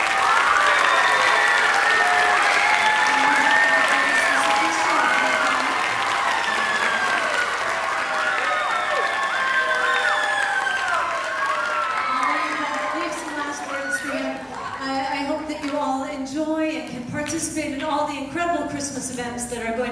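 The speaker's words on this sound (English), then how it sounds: "a round of applause" A school band's Christmas concert audience claps in a sustained round of applause that fades and thins toward the end, with some scattered cheering and shouting mixed in.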